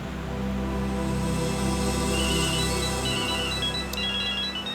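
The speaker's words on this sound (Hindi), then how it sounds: "फिर से फोन बजने लगा भाई।" A phone rings with a repeating electronic melody of short stepped tones, steady and moderately loud over a dense, sustained musical background.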